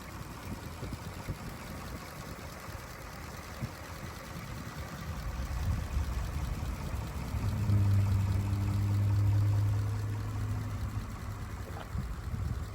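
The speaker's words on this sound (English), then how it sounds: "There it is, the 221 cubic inch, 85 horsepower Ford V8." A stock 1934 Ford V8 Victoria, 221 cubic inch and 85 horsepower, idles quietly with a low steady hum that swells slightly midway, alone and without talk.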